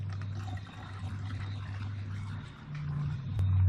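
Hot tap water runs into a 200 millilitre spray bottle, a steady low pouring rush whose pitch shifts and rises toward the end as the bottle fills.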